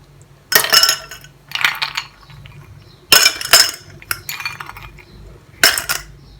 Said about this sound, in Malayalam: ഫസ്റ്റ് കുറച്ച് ഐസ് ക്യൂബ്സ് ഇട്ട് കൊടുക്കാം.